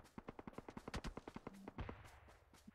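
Rapid automatic gunfire in a video game, a quick burst of about a dozen evenly spaced sharp shots followed by a couple of scattered single cracks, heard faintly and close without talk over it.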